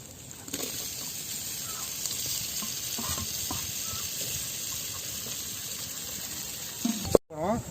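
Ginger garlic paste fries in a pan for snail gravy with a constant hiss and sizzle and occasional stirring scrapes; a voice briefly sounds near the end.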